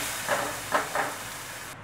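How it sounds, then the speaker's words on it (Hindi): A paste of onion, ginger and garlic mixed with salt, turmeric, chilli and dry spices sizzles in hot oil with a steady broadband hiss, swelling in three short bursts as it is stirred, with no talking. "ये जो मसाला प्याज अदरक लहसुन और थोड़े ड्राई मसाले इसमें हमने मिला दिए थे, नमक हल्दी मिर्च, अब इसे हम इस गरम तेल में डाल देंगे"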